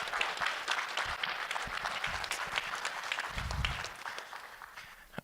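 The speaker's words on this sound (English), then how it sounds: "round of applause for Kai, everybody." An audience at student farm final presentations applauds a scholarship recipient, a modest round of clapping with a few louder claps that fades near the end.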